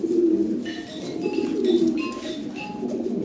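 Lahori Sirazi pigeons coo close by, a female among them, with repeated soft throaty rolls layered over one another and a few brief higher chirps scattered through.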